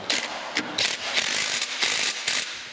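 Bolts are snugged tight while a Goldens' No. 1 cane mill is assembled, with a wrench ratcheting in quick bursts of close, crisp clicks and short pauses between strokes.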